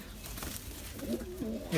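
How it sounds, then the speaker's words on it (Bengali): Pet pigeons kept on a rooftop give soft, low cooing near the end, faint and close, over quiet background rustle. "এই যে লাখা কবুতরগুলোকে রাখছি"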